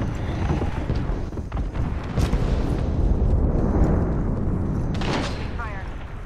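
Gunfire in the shooter Apex Legends crackles and booms in a dense, continuous barrage of shots and blasts with loud rumbling impacts, while a voice talks over the action.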